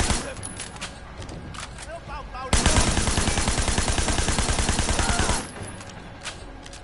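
Rapid automatic gunfire in the video game Sleeping Dogs erupts as a loud, dense burst lasting about three seconds, with a voice talking before and after.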